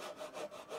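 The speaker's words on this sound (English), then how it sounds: "we kind of have to saw this nice and flat along this" A hand saw cuts along a wooden groove for a rebated tray, close and steady, with about three rhythmic back-and-forth rasping strokes and no talking.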